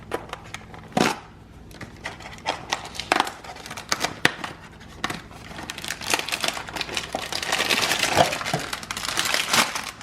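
Scissors snip and crinkle through plastic packaging on High Road Craft Bakery brownie-stuffed cookie dough, giving close, irregular crackling cuts and rustles that build into denser crinkling toward the end.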